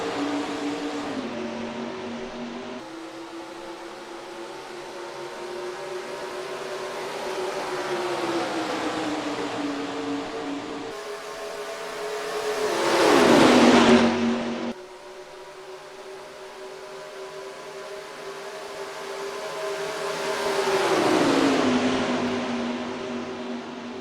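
NASCAR Racing 2003 IROC Series race cars at Homestead produce a continuous engine drone with shifting pitch, swelling twice as cars rush past close by and then fading away.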